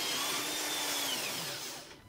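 A benchtop pillar drill bores with a 3 mm bit, giving a steady, faint whirring whine that holds evenly before tapering off at the end.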